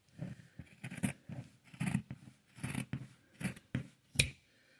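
Scissors snip through fabric being cut for a sewing machine cover, close by, in a steady series of short crisp cuts that come about every half second.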